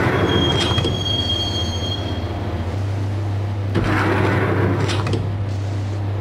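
A subway train in the Max Payne game rolls into Roscoe Street Station, with a steady loud rumble, a low hum and metallic wheel squeals rising twice over the clatter, near and continuous.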